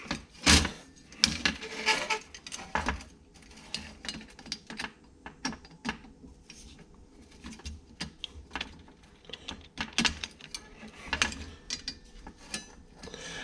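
A small wrench tightens hardware on a body-grip trap trigger. Irregular close metallic clicks and ratcheting taps come in quick bursts with short pauses between them.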